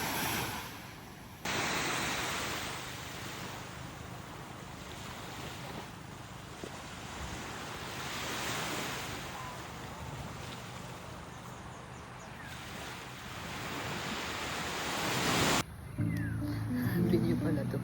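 Sea waves wash steadily near Nasugbu, Batangas, heard as a broad, continuous rush mixed with heavy wind buffeting the microphone, with a brief quieter pause at the start and end.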